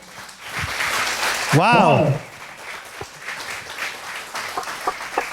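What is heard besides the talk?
congregation applause in church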